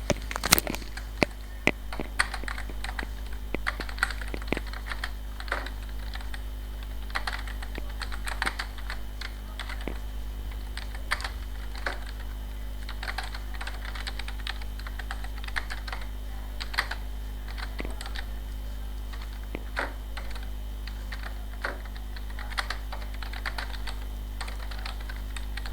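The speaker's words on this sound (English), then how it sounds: "when I'm typing my letter as in my address" Steady typing on a computer keyboard, quick clicks and key taps continuing for a long stretch over a low electrical hum.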